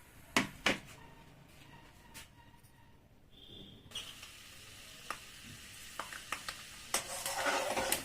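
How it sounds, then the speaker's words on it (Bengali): Peanuts fried in a pan for a chira bhaja snack: a soft sizzle runs beneath occasional sharp clinks and scrapes of a spatula, with the stirring growing busier toward the end. "আমি একটু বাদাম একটু ভেজে এর মধ্যে দিচ্ছি"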